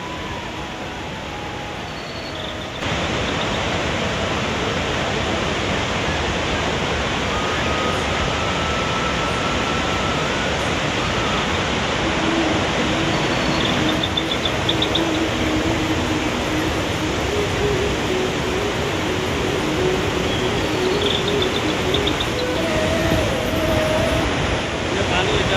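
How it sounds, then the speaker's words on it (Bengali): Rain-swollen water pours over the Quriyat Dam waterfall in a dense, steady roar. It fills the whole clip as constant broadband noise, rising slightly louder after the opening seconds. "পানি এটা বৃষ্টি হওয়ার কারণে এখানে প্রকল্প ওভারফ্লো হয় এই পানিটা"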